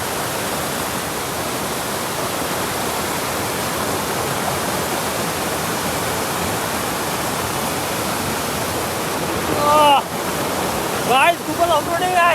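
Seaside waterfall in Ratnagiri during the monsoon, a dense continuous roar of rushing water close by, with a voice briefly talking over it near the end.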